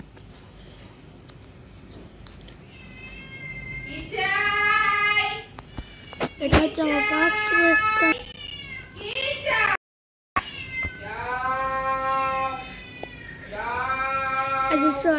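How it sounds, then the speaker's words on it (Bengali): A house cat meows several times in clear, drawn-out calls, loud and close, while a person talks over and between the meows. "বিড়ালের আওয়াজ আসছে"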